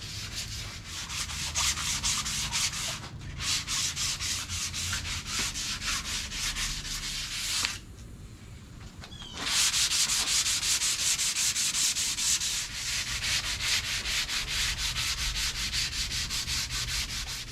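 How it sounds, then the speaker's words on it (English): Edges of a custom resin bartop table being sanded by hand with 220 grit sandpaper, fast rhythmic back-and-forth rasping strokes, close and steady, with a brief pause partway through. "220 grit sandpaper over those edges real quick."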